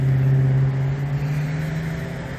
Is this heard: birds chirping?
no